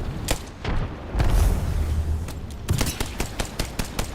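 A frag grenade is thrown and detonates in a shooter video game, bringing a heavy low boom amid a flurry of sharp gunfire cracks and bursts that continue loudly throughout.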